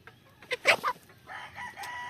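Laying hens, two yellow-legged and one white-legged, cluck in a few short bursts up close, followed by a steadier low murmur of fowl sounds.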